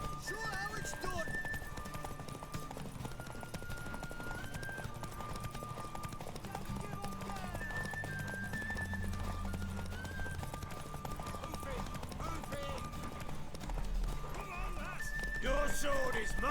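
Horse hooves clip-clop at a gallop with a neigh or whinny in The Witcher 3, running steadily beneath game music and character voices.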